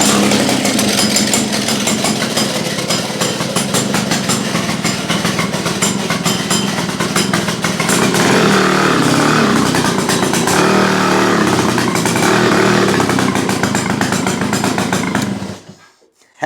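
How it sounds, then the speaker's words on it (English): A Victa two-stroke go-kart engine runs loud and close, a continuous buzzing rasp with rising and falling revs before cutting out abruptly near the end. "That's the Victa two-stroke Silver Ghost."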